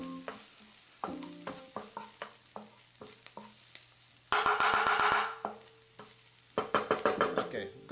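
Garlic fries in a pan with a steady sizzle while a utensil scrapes and clacks against the pan in irregular stirring strokes, with a denser burst of sizzling partway through.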